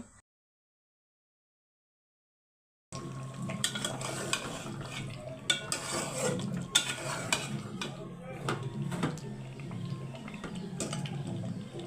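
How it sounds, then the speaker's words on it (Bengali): Meat being stirred and fried in a pan for a home Eid meal, with a low sizzle under irregular scraping and clinking of the spoon against the pan, close and fairly quiet after a brief silence. "মাংসগুলো কষায় নিতেছি"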